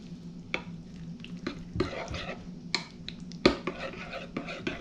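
Bathua raita being quickly stirred in a bowl with a spoon, a run of irregular clinks and scrapes over a soft steady background, close and fairly quiet, no talking.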